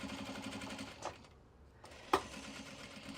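A sewing machine stitches thin, light denim for a small sling bag, running in a steady mechanical buzz that pauses briefly and restarts, with a sharp click in the middle.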